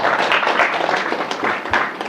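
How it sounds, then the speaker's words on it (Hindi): Group applause for a contestant at a quiz competition held at a camp, a brisk scattered clapping from a nearby audience that carries on without speech. "भाई के लिए तालियां हो जाए"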